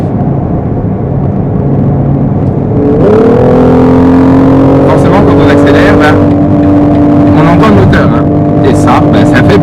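BMW XM 50e plug-in hybrid accelerating, a loud engine note rising steadily in pitch from the cabin, with a voice speaking over it.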